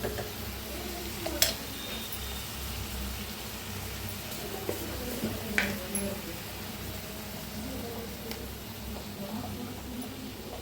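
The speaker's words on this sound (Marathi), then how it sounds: "तर आपलं पनीर बी इकडे भाजलं जात आहे." Paneer roasting in a pan sizzles softly and steadily, with scraping stirs and a few sharp clicks of a utensil against the metal, fairly quiet and close.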